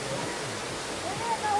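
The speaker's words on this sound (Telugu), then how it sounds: "Elephant falls." Elephant Falls waterfall in Meghalaya, a steady broad rushing roar of falling water heard close and continuous, with faint voices over it.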